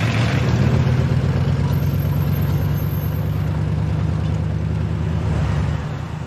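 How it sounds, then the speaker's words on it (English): A car engine rumbling loudly like a tank, a deep, continuous low throbbing drone that stays steady and close for several seconds before easing slightly at the end. "Is there something wrong with the engine?"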